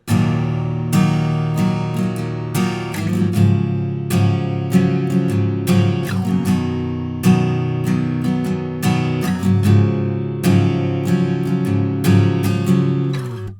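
Acoustic guitar strumming a song's verse chords, one strum pattern per chord, with crisp repeated strokes ringing clearly and alone at a steady tempo.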